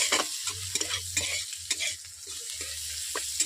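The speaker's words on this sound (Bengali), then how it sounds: "আতের সঙ্গে পেঁয়াজগুলোকে আমি মিশিয়ে নিয়েছি" Chopped onions are stir-fried in fish oil in a pan, with a spatula scraping in repeated strokes over a bright, continuous sizzle, close and loud.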